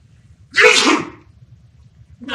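An animated cartoon character lets out one loud, breathy sneeze, close and clear, with the start of another sound at the very end.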